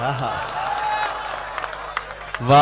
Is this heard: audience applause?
yes